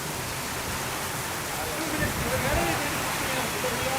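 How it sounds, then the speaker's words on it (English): Steady rain falling outdoors on a New York City street, a dense continuous hiss that fills the space evenly at close range, with no talk over it. "How can the rain persist for this long?"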